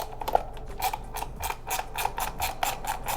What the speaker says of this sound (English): remove all of these screws.